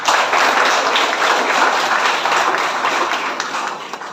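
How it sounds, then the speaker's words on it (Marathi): Loud, sustained applause fills a school auditorium as students clap for the organizers of a memorial event, a dense steady wash of hands that tapers slightly at the end. "म्हणून आयोजकांसाठी जोरदार टाळ्या"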